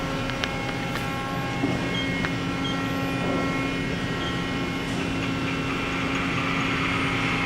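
A Mori Seiki NL3000Y CNC lathe runs its turret-mounted live tools at about 1,100 RPM, giving a steady loud mechanical drone with faint tonal whine and no talking.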